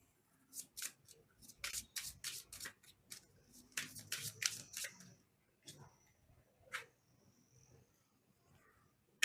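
Tarot cards handled and shuffled close up, with a run of crisp riffling snaps and flicks, then sparser soft card shuffles and taps, faint and with no voices.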